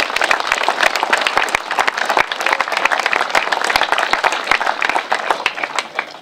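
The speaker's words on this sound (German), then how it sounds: "Applaus" Audience applause at a residents' meeting in Berlin-Altglienicke, steady dense clapping from a seated crowd sustained for about six seconds at even loudness.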